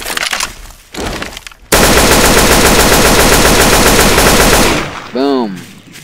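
Gunfire in the Garry's Mod video game: a few scattered shots, then a long, loud, rapid burst of automatic fire, followed by a brief tonal sweep and one more short burst.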